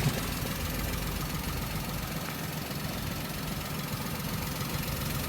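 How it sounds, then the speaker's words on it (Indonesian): Steady, smooth idle from the engine of a 2015 Toyota Agya TRD Sportivo manual, a close and even low hum with no speech over it. "Kondisi mesin halus ya."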